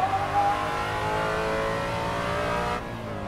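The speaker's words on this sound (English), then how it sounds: "And that supercharged engine is really strong." A supercharged Ford Mustang Shelby GT350R on the Tsukuba circuit holds a steady, rising engine note under acceleration, with a sustained whine, before cutting off sharply near the end.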